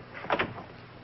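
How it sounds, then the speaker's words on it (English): A door shuts indoors with a quick double knock-and-thud, fairly close, heard alone with no talking over it. "Shut the door."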